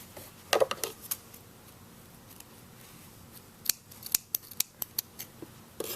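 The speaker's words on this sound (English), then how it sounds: "I'm just going to cut the yarn off" Crisp snips of scissors cutting yarn while finishing a crocheted newborn cupcake beanie, with a few close clicks early on and then a quick run of sharp cuts, all quiet and without any talk.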